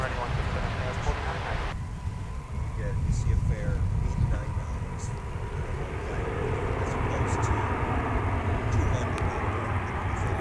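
An Airbus A321 jet airliner landing at DFW airport roars as a broad, steady engine rumble heard from outside, with wind noise and people talking over it.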